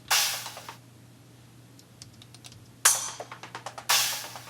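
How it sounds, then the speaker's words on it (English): Three loud cymbal crashes ring out at the start, middle and end, each decaying slowly, with lighter metallic taps scattered in between. "Then we have just the cymbals,"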